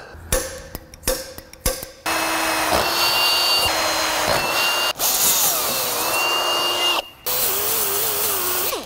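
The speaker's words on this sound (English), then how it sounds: "A few more holes to drill." A power drill whirs in sustained bursts, winding up and bogging as it bores holes in metal for a transmission cooler install, with a few short clicks and taps at the start.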